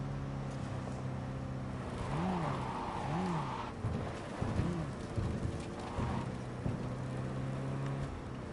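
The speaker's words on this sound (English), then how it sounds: "That is one hell of a storm!" Thunderstorm in Cyberpunk 2077: steady rain hiss with low rumbling thunder rolling beneath, set against a droning tonal hum with pitched sweeps, fairly quiet and continuous throughout.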